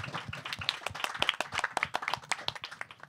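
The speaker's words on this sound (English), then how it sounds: "Please give him a round of applause" An audience claps to welcome a guest at a talk on designing cities, a fairly quiet, dense patter of many hands lasting a few seconds without speech.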